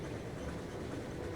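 Inside a moving train in a video game, a constant low rumble and rolling rail noise holds steady at moderate volume with no speech.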